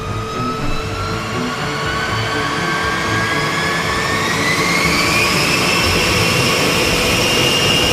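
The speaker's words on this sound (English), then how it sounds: "the pilots fire up each of the B-52's 8 engines" Loud, steady jet engine roar with rising turbine whine from a B-52 bomber's eight engines, spooling up continuously as the engines start and build power.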